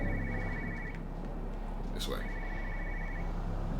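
A telephone rings from upstairs in the video game Everybody's Gone to the Rapture, its repeating electronic trill heard twice, somewhat distant and under a steady ambient hum, with a brief spoken voice in between.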